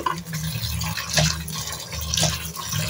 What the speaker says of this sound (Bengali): শাকগুলো সুন্দর করে পরিষ্কার করে ধুয়ে নিব